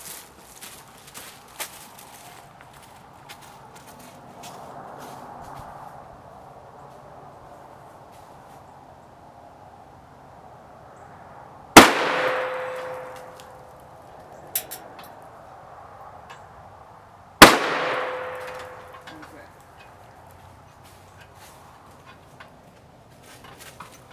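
Two sharp gunshots from a homemade .458 SOCOM rifle fired with a light plinking charge crack out several seconds apart over a quiet outdoor background, each followed by a short echoing decay.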